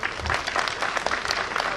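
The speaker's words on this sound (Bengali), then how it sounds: "জোরে হাততালি সৌগত ব্যানার্জির জন্য।" Audience applause at a stage show, a short burst of crowd clapping, fairly loud and dense with distinct hand slaps, heard alone.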